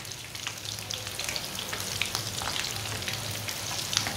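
Puffed rice (murmura) kebabs fry in a pan with a steady, dense sizzle and small crackles and pops throughout, heard close up with no talking.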